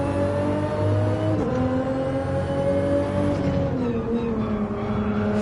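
A race car in Gran Turismo 7 on PS5 at Big Willow roars continuously at close range, its engine note holding and then sliding down in pitch as it drives through a section of track; no voices.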